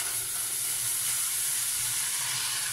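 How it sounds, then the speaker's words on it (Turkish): A pot of water boils on a home kitchen stove for packaged pasta, giving a steady, close rushing hiss with faint bubbling and no voices. "Burada su kaynıyor."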